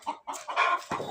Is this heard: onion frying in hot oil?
no